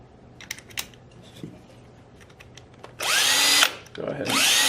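Cordless power driver backing out Phillips head screws from a Tippmann A5 paintball marker, with a few quiet clicks first and then two loud whirring bursts close by.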